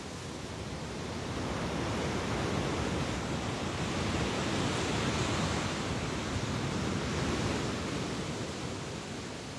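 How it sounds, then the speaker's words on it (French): Steady roar of ocean surf and wind on Hawaii's north coast, a continuous broadband wash that swells slightly in the middle and never pauses. "Du vent, des vagues"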